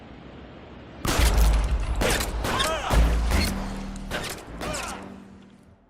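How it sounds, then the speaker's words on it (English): A burst of gunfire in the video game L.A. Noire during a robbery shootout, with six or seven loud, sharp shots in an irregular rhythm after a brief quiet start, then fading. "211 and shots fired"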